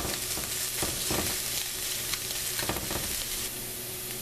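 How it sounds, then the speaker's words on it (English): Onions sweating in a pan on a low stove, a dense continuous close sizzle with a few soft stirring scrapes, steady in level and alone without voices. "I'm just turning down my stove to low. I'm going to sweat them a little longer."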